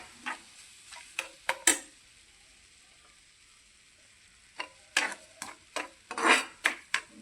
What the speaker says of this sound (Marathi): याला नेहमी हलवत राहायचं कारण हे खाली चिकटलं तर बर्फी आपली कडक बनली जाईल